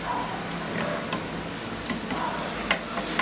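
Scrambled eggs stirred in a hot pan, a faint steady sizzle with soft scraping and light ticking from the utensil moving the eggs around.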